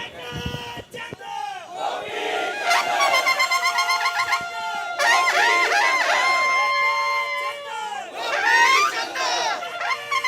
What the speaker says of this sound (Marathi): तुतारी वाजते.